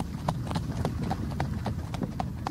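A horse pulling a carriage clip-clops along at a steady walking rhythm, hollow hoofbeats close and distinct over a continuous rumbling background of rolling wheels.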